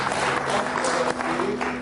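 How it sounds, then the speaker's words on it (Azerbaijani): A studio audience on an Azerbaijani television talk show gives steady, moderately distant applause, a continuous patter of clapping with little speech. "gəlin alqışlayaq"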